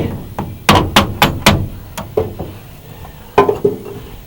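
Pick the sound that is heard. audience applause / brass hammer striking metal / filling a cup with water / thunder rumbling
brass hammer striking metal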